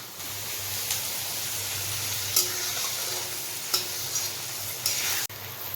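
Chopped onion sizzling steadily in hot oil while cooking chicken kosha, a continuous close frying hiss with a few brief clinks and stirring scrapes of a utensil against the pan.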